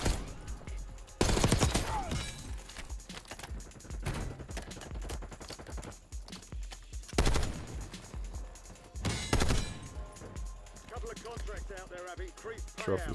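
Bursts of automatic gunfire from Call of Duty Black Ops 6 Warzone, several loud volleys spaced apart amid ongoing game effects and chatter, with voices talking throughout.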